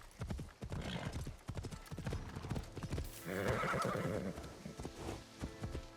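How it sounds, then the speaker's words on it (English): Horse hooves clip-clopping in the video game Assassin's Creed Shadows, a steady close trotting rhythm with a neigh or whinny partway through over ambient game sound. "I did almost trample him with the horse"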